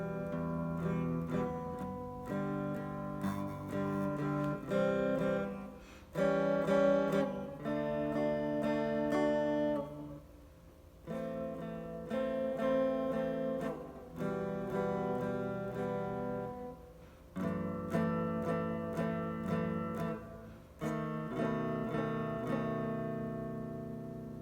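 An acoustic guitar plays an easy arrangement in ringing strummed and plucked phrases separated by short pauses, clear and alone with no voice.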